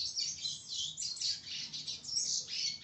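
A double-collared seedeater (coleiro) sings a rapid, continuous run of high, bright chirps and trills, close and fairly clear, with no talk over it.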